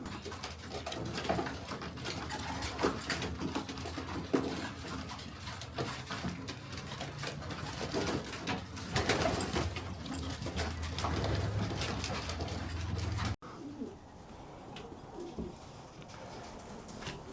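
Racing pigeons coo steadily while bathing in oil on a warm evening, the soft repeated calls overlapping continuously against outdoor noise before the sound cuts to a quieter stretch near the end.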